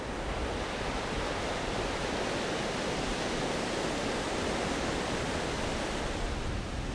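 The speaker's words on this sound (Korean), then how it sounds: "거친 파도를 마주하고 서 있는 한 청년이 눈에 띄었습니다." Rough ocean surf breaks on the shore of Batanes, a Philippine island, as a steady, loud, roaring wash of water that fills the whole stretch with no voices.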